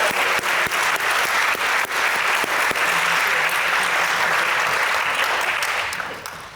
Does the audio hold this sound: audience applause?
yes